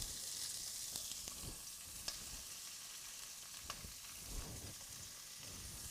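Celery and onion hit a hot pan while braised short ribs are being made, a faint, steady frying hiss with a few small crackles and no voices.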